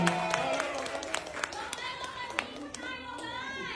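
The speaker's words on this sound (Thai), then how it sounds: "ทุกท่านเสียงปรบมือต้อนรับทายาทสามเดือนที่น่ารักของเราหน่อย" Scattered hand clapping from an audience at a celebrity engagement party greets news of a three-month pregnancy, quick uneven claps mixed with overlapping voices and chatter.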